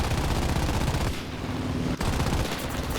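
Rapid sustained machine-gun bursts from the rear gunner of a Pe-3 aircraft in War Thunder, dense and loud, briefly pausing mid-way before firing resumes, with no talk over it.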